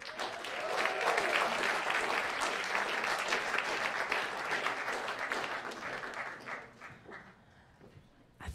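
Applause from a jazz club audience for a singer at a live quartet show, a loud sustained wash of many hands that thins out and fades toward the end.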